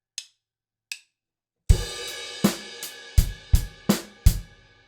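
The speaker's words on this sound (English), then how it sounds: "we're going to add 2 extra bass drum notes, one on the end of 3 and one on the end of 4" Rock drum kit groove: after two light hi-hat ticks, kick, snare and crash hits land in a steady pattern, with two extra bass drum notes added at the ends of beats three and four, loud and close.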